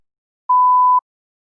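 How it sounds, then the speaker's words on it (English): A single clean electronic beep, a steady mid-pitched tone lasting about half a second, sounds alone in silence as the cue for a timed speaking-test response. "You may begin to prepare your response after the beep."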